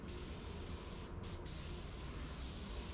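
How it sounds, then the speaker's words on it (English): Paint spray gun applying a coat on a Chevy Corvette at 13 psi, a steady faint hiss of air and atomized paint with two brief breaks in the flow. "Me, I continue to spray at 13 psi. It works pretty well with this gun"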